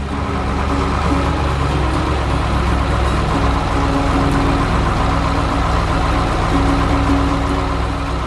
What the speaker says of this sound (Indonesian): Truk biru sedang berjalan di tengah kebun hijau yang indah